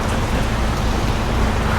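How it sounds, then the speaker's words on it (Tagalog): Heavy rain pours down outdoors in a dense, steady hiss that stays loud and unbroken for the whole short stretch, with no voices over it. "Lakas ng ulan po."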